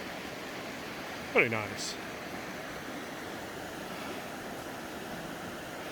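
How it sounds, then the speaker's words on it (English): A stream in Lathkill Dale gushes hard, swollen after heavy rain: a steady, close, broadband rush of water runs through the whole stretch, while a voice speaks briefly early on. "we've got a gushing water coming through."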